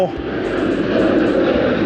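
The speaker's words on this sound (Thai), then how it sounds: "มาพร้อมเครื่องบินเลย" An airplane passes overhead at a canal roadside in Khlong Song, its broad engine roar steady and loud with a voice speaking briefly at the start.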